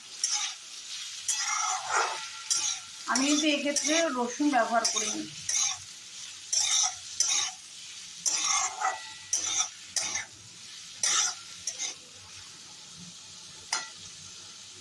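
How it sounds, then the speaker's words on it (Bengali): Chopped onions and potatoes fry together in a pan for a fish-roe fritter curry, with a steady sizzle and repeated scraping spatula strokes in uneven bursts close by. Someone speaks briefly over the cooking. "এবার পেঁয়াজগুলো আমি আলুর সঙ্গে একটু ভালো করে ভাজা ভাজা করে নেব"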